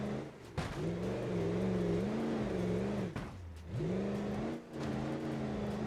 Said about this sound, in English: the engine we're running in here is a Duramax LP5